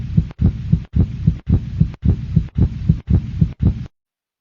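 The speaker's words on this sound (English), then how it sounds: "Beneath the tough, fibrous coating of the heart, you can see it beating" Heartbeat, steady and evenly spaced: eight muffled double thumps in a regular lub-dub rhythm, close and deep, ending abruptly in silence.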